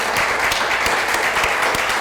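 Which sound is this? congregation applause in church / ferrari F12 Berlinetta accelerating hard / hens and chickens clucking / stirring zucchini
congregation applause in church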